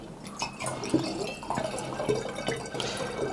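Water mixed with honey is poured through a funnel into a jar for mead, giving a soft, steady trickle with small splashes and drips, close by and fairly quiet.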